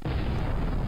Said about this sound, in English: Core overheated, causing a massive explosion in that destroyed heroin base.